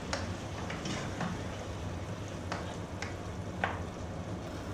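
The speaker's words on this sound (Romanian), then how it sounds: "Punem vinul și amestecăm" Chicken livers with mushrooms, onion and wine sizzle steadily in a pan as they are stirred, with a few sharp spoon clicks against the pan over the constant frying hiss.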